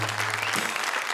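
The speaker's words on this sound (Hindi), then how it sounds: "मुझे मर्द तालियां बजा के बताएं अगर मेरी बात ठीक है तो।" Men in a comedy-show audience clap together in a dense, loud burst of applause that fills the whole moment without a break.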